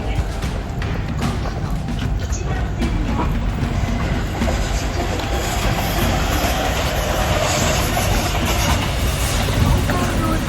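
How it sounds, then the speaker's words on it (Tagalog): A train pulls into a station in Japan with a loud rolling clatter of wheels on rails, heard close and continuous. "Ayun na yung tren, parating na"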